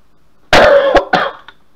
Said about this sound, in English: I apologise for the coughing again